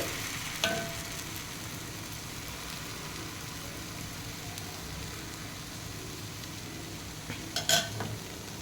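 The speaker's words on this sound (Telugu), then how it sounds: "సో ఈ విధంగా మనం ఆమ్లెట్ అనేది వేసుకోవాలి. మంచిగా గోల్డెన్ బ్రౌన్ కలర్ వచ్చే వరకు మనం వేడి చేయాలి." An egg omelette frying in a pan, a steady soft sizzle throughout, with an occasional clink of a spatula or utensil against the pan near the start and the end.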